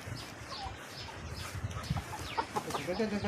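A small flock of laying hens clucks and murmurs in a low, scattered chorus, a few sharper calls rising near the end over faint background noise.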